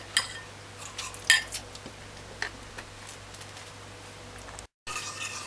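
Mixing ginger cake batter in a bowl to dilute it: sparse light clinks and scrapes of a utensil against the bowl, quiet and close, with a brief sharper clatter near the start and no talking.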